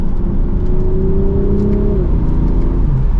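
BMW Z4 sDrive M40i in sport mode under mild acceleration, a loud steady engine drone inside the car whose pitch climbs gradually, then drops at a shift near two seconds before building again, with no speech.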